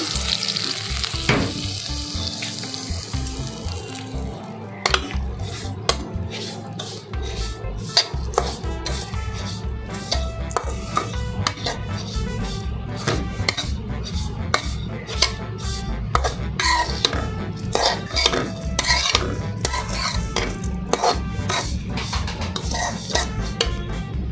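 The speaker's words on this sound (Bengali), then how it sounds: "ঘিয়ের মধ্যে সেমাইগুলোকে দিয়ে ভালো করে ভেজে নেব" Vermicelli fries in ghee in a pan as a spoon stirs and clatters against the metal, a constant sizzle under frequent sharp scraping clicks that keep up a steady busy rhythm, close by, without speech.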